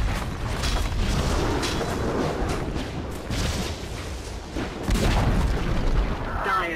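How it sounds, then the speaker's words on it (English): Dota 2 match with a tower under attack and being destroyed: continuous dense game din of booming impacts, mechanical creaks and clashing effects, loud throughout with heavier hits near the end. "Dire's middle tower is under attack."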